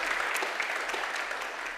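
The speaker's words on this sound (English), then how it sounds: "Give her a round of applause for her." A church congregation at a Sunday morning service applauds, a brief, even wash of many hands clapping heard at moderate distance.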